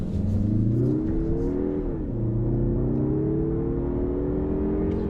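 A 2021 Mazda3 AWD Turbo accelerates hard. Its engine note climbs steadily, drops briefly at a gear change, then rises again, steady and fairly close, with no talking.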